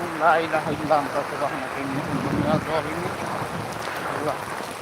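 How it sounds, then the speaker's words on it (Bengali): Heavy rain pours during a strong storm in Gazipur, with wind, a steady dense hiss filling the background while a person talks over it throughout. "অনেক প্রচণ্ড পরিমাণে বৃষ্টি সহ বৃষ্টি হচ্ছে"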